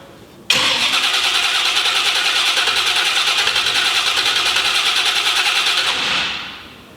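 Chevrolet C10 engine catching abruptly and firing right up, then running loud and steady close by for several seconds before the sound fades.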